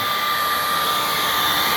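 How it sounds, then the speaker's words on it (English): A hair dryer heating vinyl for a decal install blows steadily with a constant, close whooshing hiss and a faint motor whine, unchanging throughout. "That's where a hair dryer comes in handy."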